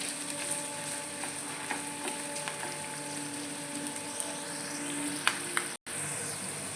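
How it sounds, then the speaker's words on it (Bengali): Vegetables for Maggi noodles sizzle and fry gently in a pan, a steady close hiss with faint stirring clicks, broken by a brief dropout near the end. "তো একটুখানি এটা অল্প করে ভেজে নিতে হবে।"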